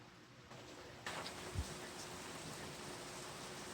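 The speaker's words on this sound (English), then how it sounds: "It is now pouring down rain at my house" Heavy rain pouring down outside a house, a steady broadband hiss that swells louder about a second in and then holds constant, with no voices.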